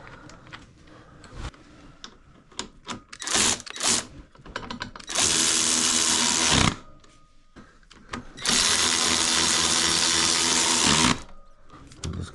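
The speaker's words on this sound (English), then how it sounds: "And just give those the proper torquing." Power tool torquing bolts on a bicycle during assembly, two sustained loud bursts of whirring with scattered clicks and small mechanical knocks between them, up close in a quiet space.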